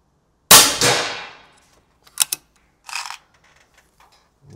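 An Epic Airguns air rifle fires two sharp, loud reports close together, followed by a few faint metallic clicks and clacks from the mechanism in otherwise quiet surroundings.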